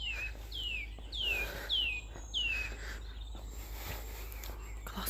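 Birds sing outdoors in Ireland after rain, repeating a bright descending whistle about every half second, with a steady buzz of insects and faint rustling in the background.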